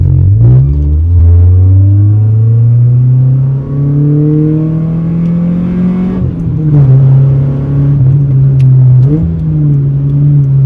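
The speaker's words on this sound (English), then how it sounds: "It's actually got a massive exhaust leak instead." A Honda Civic EG with a B18C2 engine and a massive exhaust leak revs loudly and holds high, rising and dipping, with a raspy, sputtering exhaust tone running continuously throughout.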